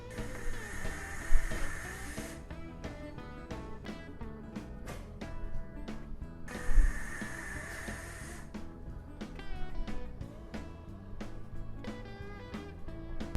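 Vaping on a GeekVape Tsunami RDA at 160 watts, 4.2 volts: two airy hissing draws of about two seconds each, set against louder background music, with no speech.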